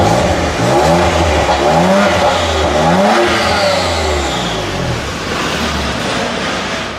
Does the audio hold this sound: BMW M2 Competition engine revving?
yes